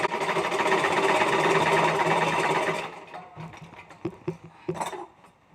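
A sewing machine stitches a trouser hem in a steady, loud whirring run for about three seconds, then stops, leaving a few scattered clinks and handling noises.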